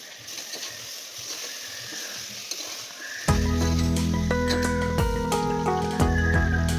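Tomatoes are sautéed in a pan with ginger garlic paste for veg biryani: a soft background sizzle suddenly swells into a loud, dense crackling fry as they go in, then keeps sputtering steadily.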